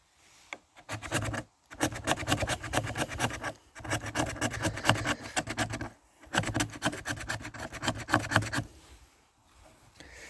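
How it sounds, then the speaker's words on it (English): A knife's spine scrapes thin shavings from wood for a fire kit, making bursts of rapid, rasping strokes close by, separated by short pauses. "We're going to scrape off all those little shavings there."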